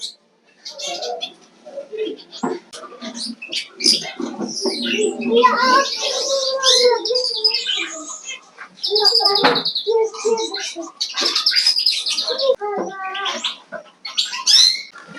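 Canary chicks in a nest give a chorus of high, thin chirps and peeps, loud and close, in bursts with short gaps.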